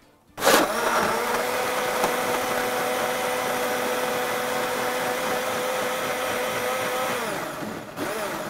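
A blender whirs as it starts abruptly, then runs at a steady, loud hum while mixing apple and beetroot juice, easing slightly near the end.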